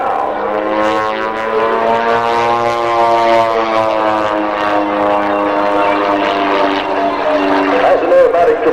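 An aerobatic propeller plane at a 1998 Tasmanian air race, its engine droning loud and steady through a turn and climbing slightly in pitch, with faint talk beneath.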